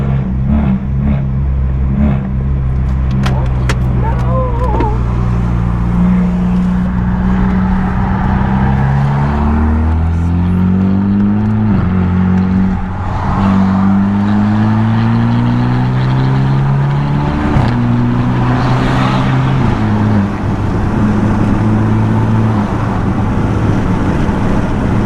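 A stage 2+ 2016 BMW 328i with a loud straight-pipe exhaust drones steadily at highway speed from inside the cabin, its engine pitch climbing and dropping through repeated gear shifts for the whole stretch.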